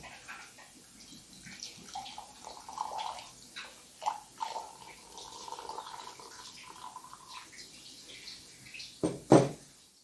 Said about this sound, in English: Add 80 grams of water.